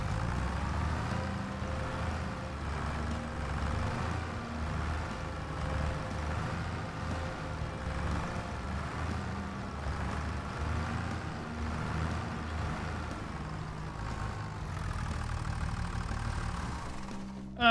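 A tractor engine idles steadily in the Farming Simulator 25 video game, a continuous mid-pitched rumble with a faint rhythmic knock that runs unbroken throughout.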